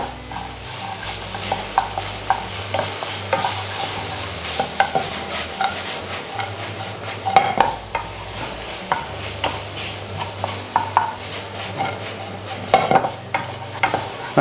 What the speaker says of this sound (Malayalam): നന്നായിട്ടൊന്ന് മിക്സാക്കാം.